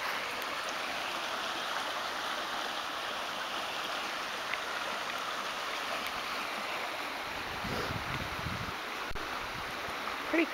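A creek flows in a continuous, even rush of water that fills the whole stretch at moderate level, with a little wind and a soft low thump near the end, and no one talking.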